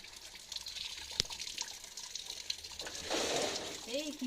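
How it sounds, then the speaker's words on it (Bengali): Goat meat being washed by hand, with close, quiet splashing and running water, sloshing that grows busier near the end, while a voice talks faintly in the background. "এদিকে খাসির মাংস ধোয়া বাছা চলছে দুপুরে রান্নার জন্য"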